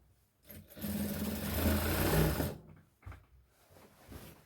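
A sewing machine runs in one steady burst of about two seconds, stitching an elastic waistband onto ladies' loose pants, followed by quieter handling clicks and brief pauses.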